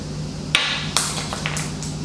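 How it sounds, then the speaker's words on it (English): A 3D print in eSun hard tough resin hits a hard floor with a sharp clack, then bounces a second time and rattles into a few lighter ticks as it settles. A steady hum sits underneath. "Let's do a second drop."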